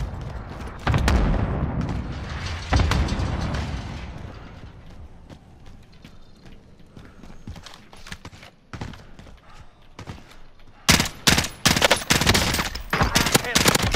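Video game gunfire in a battle royale match: scattered shots early, a quieter stretch, then rapid bursts of automatic fire close and loud near the end.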